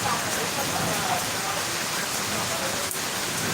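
Steady outdoor rain falls along a street in South Bengal, a continuous broadband wash with no breaks, fairly loud and close, with one faint brief tick near the end.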